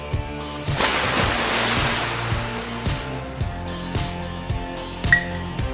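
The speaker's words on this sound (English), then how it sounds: "Then add half of a cup of water." Half a cup of water poured into a bowl of salt for no-bake playdough, a splashing rush in the first seconds that fades into quieter trickles and small clinks.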